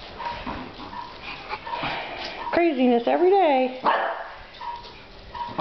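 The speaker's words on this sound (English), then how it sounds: "Roscoe's barking." Roscoe the dog barks and whines in a living room, a burst of loud, pitched yelps and howl-like barks in the middle, with people talking before and after.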